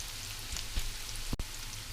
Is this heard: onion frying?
yes